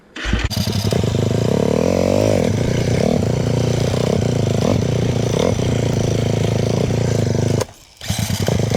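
A dirt bike on a homemade enduro single-lane trail runs loud and close, its engine holding a steady rough note with a brief rise early on, then cutting out sharply near the end before picking back up.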